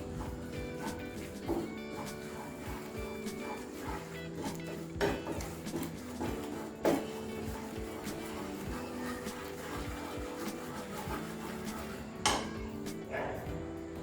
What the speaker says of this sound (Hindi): अभी आटा हमारा भुनना स्टार्ट हो गया है